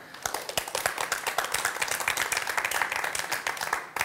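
A studio audience on a Turkish morning television show claps steadily in a lively round of applause, with sharp individual claps standing out, heard alone without talk.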